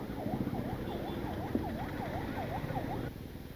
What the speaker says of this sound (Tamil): பின்னாடி ஒரு ஆம்புலன்ஸ் வருது, ஆம்புலன்ஸ் கண்டிப்பாக வந்து வழியை விடுங்க